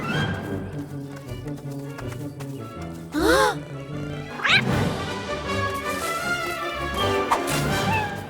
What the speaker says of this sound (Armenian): չգիտեինք, որ կատու եք պահում